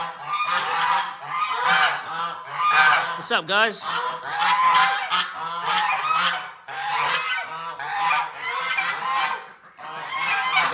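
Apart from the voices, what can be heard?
geese honking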